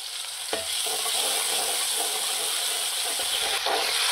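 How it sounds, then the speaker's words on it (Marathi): Chopped onion sautéed in a hot pan until pink, a steady close sizzle with a spatula scrape near the start and again near the end, with no talk. "कांदा चांगला गुलाबी रंग येईपर्यंत परतायचा"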